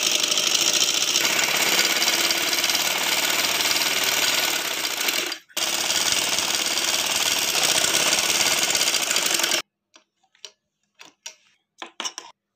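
A sewing machine stitches fabric in a dense, rapid mechanical chatter for about ten seconds, stops briefly midway, then ends and gives way to a few sparse clicks and handling noises.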